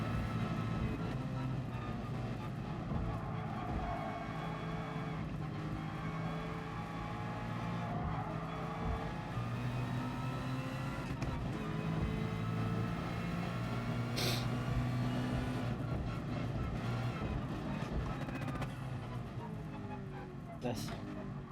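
Race car engine in the GT Sport video game, a steady loud droning roar with shifting pitch throughout, running continuously in the foreground with no gaps.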